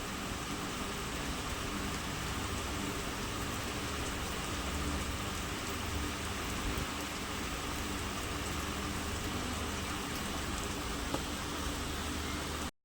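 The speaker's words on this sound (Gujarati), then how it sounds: "જો મસ્ત એવો મસ્ત મજાનો વરસાદ જો વધી ગયો. વરસાદ જબ્બર વરસાદ પડે હ." Heavy rain pours down in a steady, dense hiss that stays loud and even throughout, with no voices.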